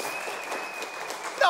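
At a bar show seminar on Caribbean punch history, the audience gives a brief burst of clapping, moderately loud and mixed with a faint steady tone and some murmur.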